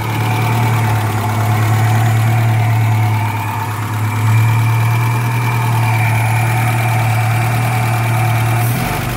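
A Nissan D21 Hardbody engine idles steadily close by, a loud even low hum with a constant drone that dips briefly midway, with no talking over it.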